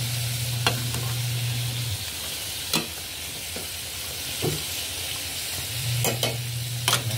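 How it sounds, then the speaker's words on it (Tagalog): Continuous sizzling of vegetables frying in a pan for turkey caldereta, with occasional clinks and stirring scrapes, close and fairly loud; a low hum comes and goes. "Piprito lang natin to guys para madali pong maluto ang ating mga gulay."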